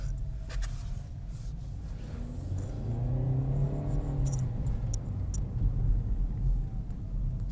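Inside the cabin of a 2021 Chevrolet Spark on icy roads, the small engine's hum and low road rumble rise gently under acceleration, steady and subdued with no talk.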